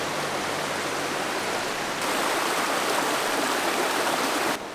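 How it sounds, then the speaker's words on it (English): A rapid on the Toccoa River roars steadily, a loud, unbroken wash of rushing water close by with no voices. "we made a stop alongside the Toccoa River to check out this cool rapid."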